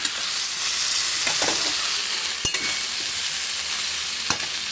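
Vegetarian food cooked without onion or garlic is stir-fried in a pan, giving a continuous loud sizzle with a few scattered scrapes and knocks of a spatula.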